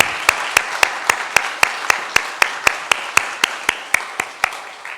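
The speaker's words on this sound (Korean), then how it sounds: "하나님께 영광 박수 올려드리겠습니다." Church congregation at Sunday worship clapping to glorify God: a steady run of about nineteen sharp, evenly spaced unison claps, loud and close, with no talk over them.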